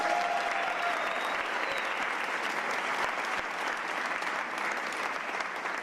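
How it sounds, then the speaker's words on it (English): A large audience at an official announcement event in Philadelphia gives a dense, sustained round of applause, steady and loud for the whole stretch, with a faint crowd murmur beneath the clapping. "Can we have a round of applause, please?"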